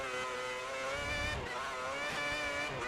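F1 car in the F1 2010 video game at Spa, its engine whining through layered harmonics as it runs wide and spins off, pitch wavering and sliding, held steady at moderate volume with no talk.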